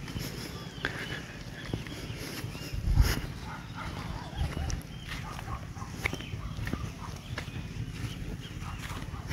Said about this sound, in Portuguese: O cachorrinho aí que tava se acabando aí na areia.